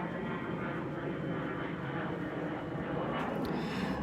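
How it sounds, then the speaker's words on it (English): Loud airplane passing overhead outdoors, a steady broad roar throughout that swells slightly near the end, with no talk over it. "that plane is really loud"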